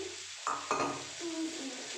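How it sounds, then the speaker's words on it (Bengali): A spatula scrapes and stirs through broad beans and lentil dumplings in a pan, two quick strokes then a softer drag, over a low sizzle. "এবার আমি ভালো করে মিক্সড করে দেবো"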